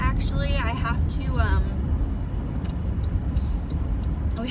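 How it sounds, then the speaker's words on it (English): A family car carrying kids drives along the road with a constant low engine and tyre rumble, while a voice talks over it near the start. "So we got the kids in the car and we're on our way."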